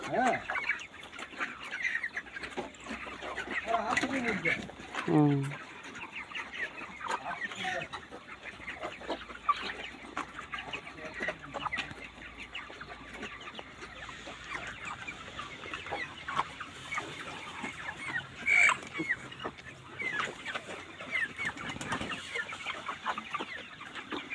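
Broiler chickens on a poultry farm cluck and murmur steadily close by, with occasional louder squawks and bird calls over a low, busy farmyard background.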